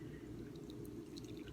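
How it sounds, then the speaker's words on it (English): Coffee from a French press is poured into a cup, a quiet close trickle with small splashy drips over a low steady rumble. "So we're going to go ahead and pour it in here."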